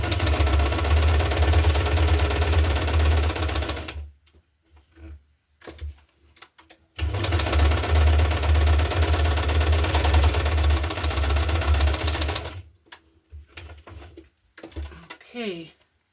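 Sewing machine stitching through a paper junk-journal ephemera card, loud steady mechanical whirring in two long bursts separated by a quiet pause with light handling noises.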